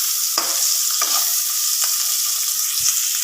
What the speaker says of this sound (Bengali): এখন সবজিগুলো সব নাড়াচাড়া করছি